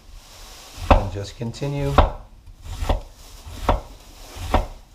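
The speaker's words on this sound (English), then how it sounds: "thinly slicing my cabbage" A knife thinly slicing cabbage on a board, several crisp chopping strikes at a steady, unhurried pace, close by, with a brief spoken remark between cuts.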